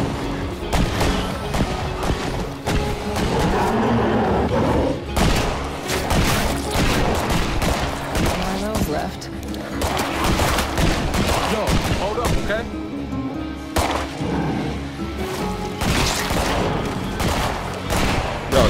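Dense, continuous gunfire and explosions from the video game State of Decay 2, a loud sustained barrage of rapid shots and booms with game sound layered throughout and no break.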